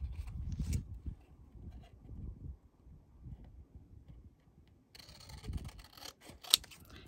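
Scissors cut out paper card pieces for a Valentine's pinwheel quilt card, with faint, close snips in short bursts and a sharp click near the end in a quiet room.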